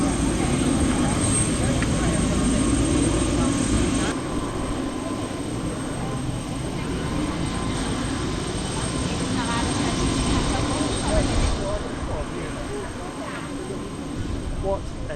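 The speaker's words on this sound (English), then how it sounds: "Let's go get that helicopter." A helicopter over Rio de Janeiro gives a steady low rotor and engine drone, continuous and fairly close, with a slight shift in tone partway through.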